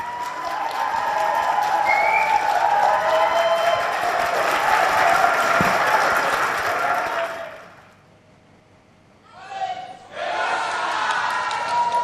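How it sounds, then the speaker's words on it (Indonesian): Supporters of Nadiem Makarim cheering in a courtroom, a loud sustained roar of voices and clapping that cuts out abruptly, then a brief burst before the crowd noise resumes. "diikuti sorak dari pendukung Nadiem Makarim"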